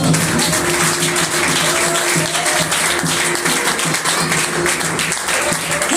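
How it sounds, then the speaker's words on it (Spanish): A church congregation claps during worship, loud rhythmic applause layered over sustained music with steady low tones, continuing evenly for the whole stretch. "Den un fuerte aplauso al Señor"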